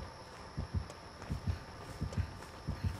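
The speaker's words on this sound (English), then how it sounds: "you gotta go as soon as you hear heartbeats" Video game heartbeat warning thumps in regular double beats, low and muffled, repeating about every 0.7 seconds at a quiet level, with faint background game ambience.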